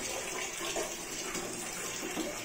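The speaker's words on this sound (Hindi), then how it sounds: "ये पानी भर रहे हैं बाल्टी में" Water running from a tap into a bucket during a Holi festival celebration in Jamnagar, Gujarat, India, a steady splashing hiss that stays constant and fairly close.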